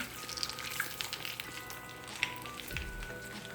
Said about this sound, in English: I'm going to go ahead and dip them in the hot oil